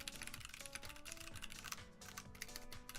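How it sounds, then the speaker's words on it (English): Rapid typing on a computer keyboard during a typing test: a dense, continuous patter of keystrokes over background music. "I'll do a very brief typing test"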